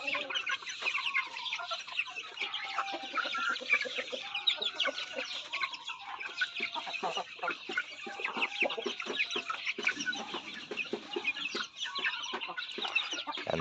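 Roosters and hens on a poultry farm cluck continuously in a busy, overlapping chatter, heard at moderate distance with no talking.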